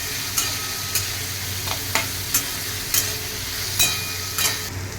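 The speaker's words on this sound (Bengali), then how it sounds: "এবার এটাকে আমি একটু ভেজে নেবো" Paneer cubes fry in a hot pan for paneer pulao, a steady sizzle broken by several sharp scrapes and clacks of a spatula stirring at a regular pace, close and clear, with no talking.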